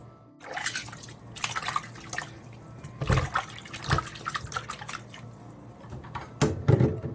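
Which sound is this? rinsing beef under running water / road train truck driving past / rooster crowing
rinsing beef under running water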